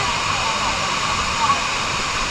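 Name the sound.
waterfall in Zamboanga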